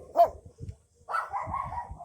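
A puppy gives a short high yip, then a longer whimpering whine, close by and fairly quiet, with no talking.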